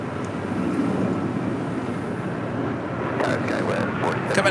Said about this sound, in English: This A220-100 is taking off to Houston Intercontinental, flight 1143